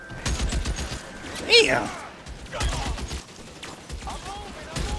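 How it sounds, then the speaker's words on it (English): Rapid-fire hunting rifle gunfire during a mansion raid in L.A. Noire on PS4, sounding as steady close bursts of shots under game effects, with a voice briefly cutting in. "is that a rapid fire hunting rifle?"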